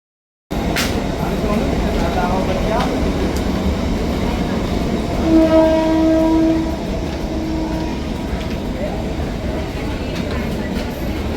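A passenger train, the Indrayani, rumbles steadily at a crowded railway station at night while a loud horn blares for a couple of seconds midway, with people's voices murmuring underneath.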